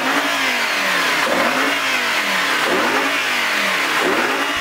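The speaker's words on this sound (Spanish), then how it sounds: "tenemos a prueba el grandioso Audi R8 V10 Plus" A 2017 Audi R8 V10 Plus, a ten-cylinder car of 550 horsepower, revs loudly up and down in repeated sweeping surges, close and continuous with no talking.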